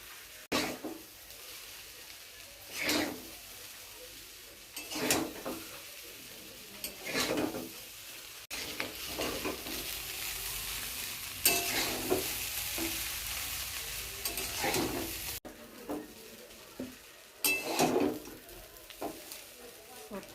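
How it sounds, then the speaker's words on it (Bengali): Chowmein is stir-fried in a pan, with a loud continuous sizzle broken by regular scraping tosses of the spatula against the metal, repeating every couple of seconds over twenty seconds. "আর এবার আমি চাউমিনটা দিয়ে দেবো"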